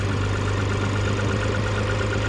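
A Lexus car engine idles steadily while warming up, with a constant low hum and a faint rhythmic pulse, close and continuous with no voices.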